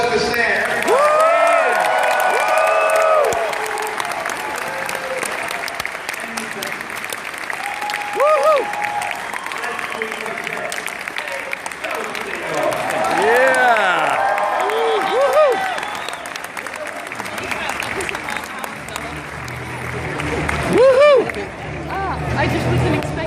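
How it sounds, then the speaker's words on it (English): Crowd at MegaCon 2015 in Orlando applauding and cheering for Stan Lee, loud clapping mixed with whoops and a chattering crowd, with voices talking and calling out throughout. "Round of applause for Stan."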